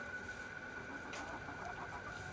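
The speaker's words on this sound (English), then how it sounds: "Are these just egg hens, or do you also use them for meat" Egg hens cluck faintly in a quiet barnyard, a few soft, scattered clucks over a low, steady background hum.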